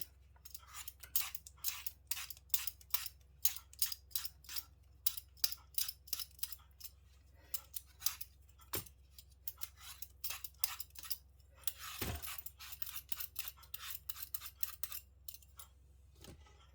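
A crisp raw green mango is peeled with a knife close up, making a steady run of sharp, crunchy scraping snaps with brief pauses and a faint background hum.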